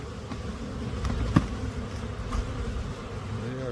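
Honey bees at a newly installed hive on a ranch make a steady, low buzz throughout, close by, with one brief louder passing drone.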